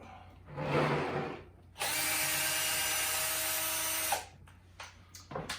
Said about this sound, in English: As we got more screws here to take out.